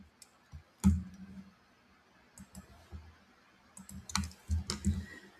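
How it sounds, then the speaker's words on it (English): Sparse clicks of keys on a computer keyboard, a few isolated taps early on and a denser cluster of keystrokes near the end, fairly quiet and close with no talking. "So let me go type that out."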